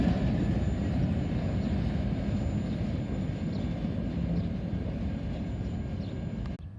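Freight train locomotive near Bellevue, Ohio, speeding up, a loud steady low engine rumble that holds for several seconds and cuts off abruptly at the end.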